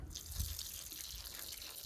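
Water poured onto garden plants over dry soil makes a faint, continuous trickling and splashing, with a brief louder gush near the start and no talking.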